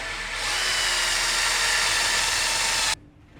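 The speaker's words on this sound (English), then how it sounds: "I'm gonna just drill 2 big holes right here." A power drill whines steadily at high speed, boring a large hole near PVC for about three seconds before stopping abruptly.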